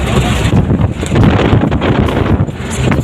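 Strong wind buffets the microphone on a long vehicle bridge, a loud, continuous roaring rumble with gusty swells and no speech.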